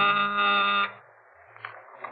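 A loud, flat electric buzz holds for just under a second and then cuts off, leaving faint room noise with a few small knocks.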